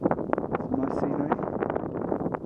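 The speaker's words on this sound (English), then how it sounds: "It's a bit blowy, but just adds to the fun." Gusty wind buffets the microphone on a sunny ski slope at Alpe d'Huez, rough uneven rushing and thumping throughout, with a person talking over it.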